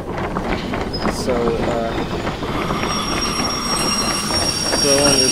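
Train wheels and brakes squeal in the Derail Valley game during a long haul from the steel factory to the harbor, with high thin squeals rising over a steady rumbling roll, loud and continuous, partly under talk.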